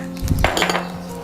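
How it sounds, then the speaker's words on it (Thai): Whole black peppercorns dropped into a plastic bag for Thai shrimp sauce, a short burst of small hard rattling clinks against a kitchen background. "ให้ใส่ เม็ดพริกไทยค่ะ"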